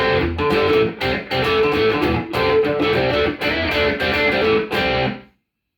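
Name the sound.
electric guitar rhythm tone, middle pickup position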